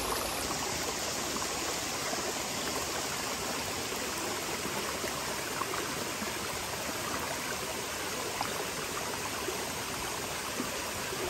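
A waterfall in the Harz mountains rushes in a steady, dense, loud roar of falling water, unbroken from start to finish with no voices.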